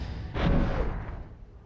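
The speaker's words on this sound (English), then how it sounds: "Grimlock's launch. Oh, that's the sound of Grimlock's." Grimlock missiles launching in Space Engineers during a weapons tournament battle, a single loud booming burst that swells quickly and then fades over about a second.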